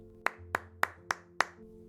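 Five sharp hand claps in a steady, evenly spaced rhythm, fairly close and crisp over a low background hum.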